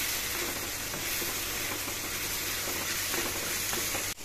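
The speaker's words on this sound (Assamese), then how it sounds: "এইখিনি 10 মিনিট সময় মই এনেকৈ ভাজিম কম জুইত ভাজিম" Eel fish fries in a pan over a low flame, a continuous dense sizzle with light stirring noises, heard up close and ending abruptly.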